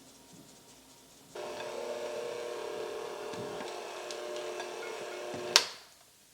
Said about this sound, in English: now we're going to sift in the last of the dry ingredients